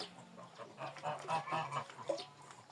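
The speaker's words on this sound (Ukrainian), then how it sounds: "Ось цей вольєр до курей." Chickens in an enclosure calling in short, scattered honking and clucking bursts, fairly faint and close by, with no talking.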